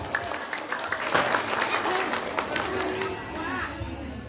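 Audience applause at a humorous Sundanese religious sermon in Kampung Sukatani, with overlapping voices and crowd chatter mixed into steady clapping throughout.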